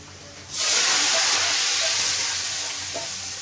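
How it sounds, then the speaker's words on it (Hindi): Hot oil bursts into a loud, steady sizzle as a tempering is poured over haleem, starting suddenly and hissing on, fading only slightly toward the end. "इस तरह करके आपने तड़का लगाना है"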